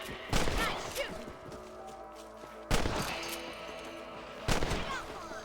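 Three sharp rifle shots spaced a couple of seconds apart while hunting rabbits in Red Dead Redemption, each loud and close with a short ringing tail over outdoor ambience.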